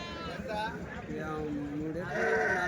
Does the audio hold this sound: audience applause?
no